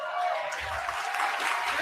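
Applause from an audience plays back from a video clip, a thin, steady wash of clapping heard at a distance beneath a voice speaking over it.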